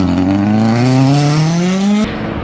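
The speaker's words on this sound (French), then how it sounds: "Petite descente en voiture, bien serré les virages" A car winds down tight mountain bends, its engine note rising steadily as it revs, loud and close, then cutting off abruptly near the end.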